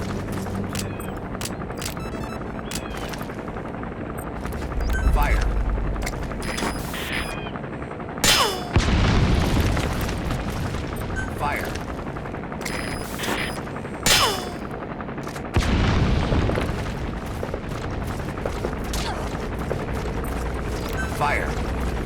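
Sustained gunfire in Metal Gear Solid 5: The Phantom Pain, with crackling volleys and machine-gun bursts punctuated by louder booming hits, a steady engine-like drone underneath, and voices now and then.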